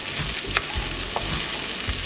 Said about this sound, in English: I'm going to add my carrots in.